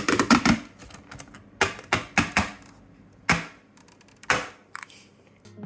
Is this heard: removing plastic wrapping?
yes